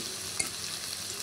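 Prawns with green chillies frying in a pan, a steady soft sizzle throughout with one brief utensil clink, and no voices.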